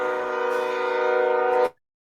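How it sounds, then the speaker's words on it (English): A distant train sounds a steady, sustained horn blast in the background that holds for under two seconds and then cuts off abruptly into silence. "I heard the train cut in right there."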